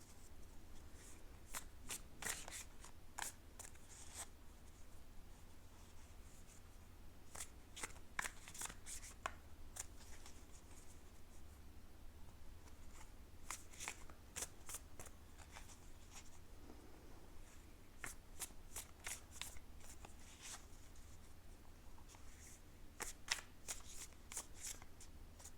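A deck of tarot cards is shuffled by hand in repeated quick riffling bursts, crisp snapping flurries separated by short pauses, close and quiet against a soft background hiss.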